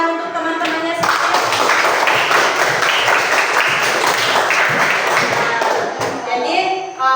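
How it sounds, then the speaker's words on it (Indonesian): Schoolchildren in an Indonesian classroom applaud their classmates in a burst of close, lively clapping lasting about five seconds, with a teacher's and children's voices just before and after. "berikan tepuk tangan untuk teman-temannya semua"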